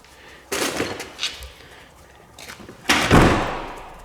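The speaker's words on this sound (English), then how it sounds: "let's close the door and see what happens." An RV cargo door swings shut with a sharp close slam at about half a second, some rattling follows, then a louder second bang near three seconds that rings briefly.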